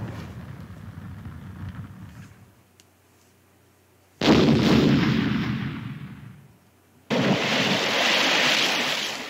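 Shooting in a Philips CD-i video game comes as two long, loud roaring blasts like cannon fire or surf, each lasting a few seconds and separated by a dull rumbling lull.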